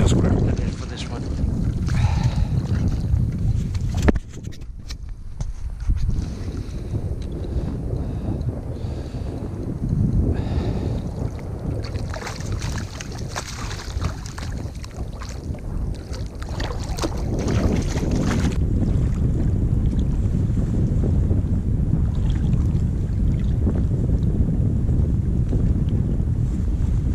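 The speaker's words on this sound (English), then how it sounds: "It has been quite windy today" Strong wind buffets a microphone outdoors on the water during a fishing outing from a boat, a steady roaring rush with gusty swells that continues throughout without pause.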